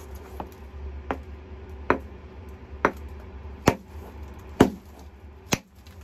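Sharp, hard strikes of flint knapping land about once per second, seven in a row, crisp and close, knocking flakes off a raw flint nodule while thinning an Acheulean handaxe, with faint rustling between blows.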